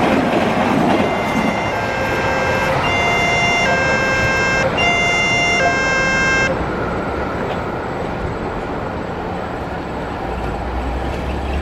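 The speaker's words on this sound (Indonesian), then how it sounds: "kali ini kereta api Logawa" The Logawa passenger train arrives at Sumyang in the afternoon from the direction of Klaten station, rolling loudly on the rails with a steady rumble while its horn sounds several long blasts before fading back into wheel noise.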